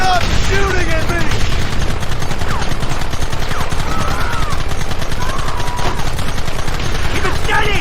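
Heavy gunfire in a Red Dead Redemption shootout, rapid overlapping shots in a dense, continuous barrage, loud and close, with shouting voices mixed in.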